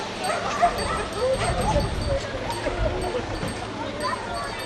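A tracking dog on a scent trail gives soft whimpers and yips mixed with faint barks, close by, over a steady outdoor background with people talking.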